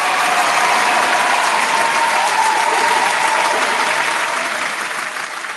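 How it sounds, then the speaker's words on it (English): A studio audience gives loud, sustained applause for a mix show, a continuous wash of clapping that fades slightly at the end. "round of applause for the Set the Bar Mix Show"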